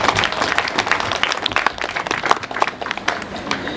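A crowd gathered at a celebration and book launch honouring an ambassador and his wife breaks into steady clapping, dense and fairly close, with a few louder individual claps standing out and no speech.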